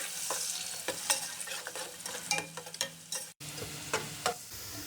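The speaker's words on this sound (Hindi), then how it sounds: "प्याज को हम हल्का सा फ्राई कर लेंगे।" Two onions fry in about a cup of oil with a close, steady sizzle, punctuated by frequent clinks and scrapes of a stirring spoon, with no talking.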